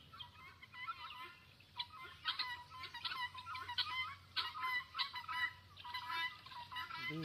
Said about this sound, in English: Meet the guineas.